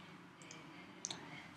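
Two quick computer mouse clicks during charting work on a trading platform, sharp and close, set against a low steady room hum with no talking.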